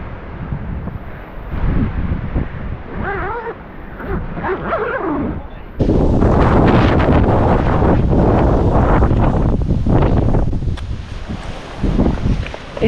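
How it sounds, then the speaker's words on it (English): Strong wind roars and buffets the microphone at a seaside campsite on the Welsh coast at Smugglers Cove, surging to a loud, steady blast partway through, with rain setting in. "It's really windy now,"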